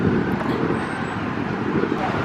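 Nearby road traffic beside a bridge at a lakeside garden rolls past in a steady, loud wash of tire and engine noise, close by and continuous, with no other sound standing out.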